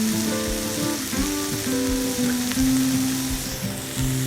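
Trail food sizzles and fries in a pan over a camp burner on a cold, breezy day, a steady close crackle with a tonal hum running underneath.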